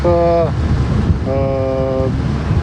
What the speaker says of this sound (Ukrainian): Катер себе веде дуже гарно.